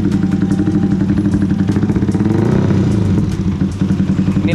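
A Yamaha WR155 motorcycle built up as a supermoto runs close by with a loud, rapid, steady engine pulse and a brief rev partway through before settling back to idle.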